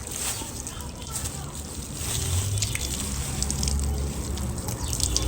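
Water splashes and sloshes close by, a steady pouring trickle that grows fuller partway through, with a voice speaking over it.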